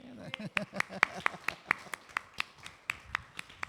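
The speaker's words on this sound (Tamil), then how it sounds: "கையை தட்டுங்க, கையை தட்டுங்க." A church congregation claps hands during a Tamil worship sermon: a steady run of about fifteen sharp, evenly spaced claps, close and fairly loud, with a faint voice underneath.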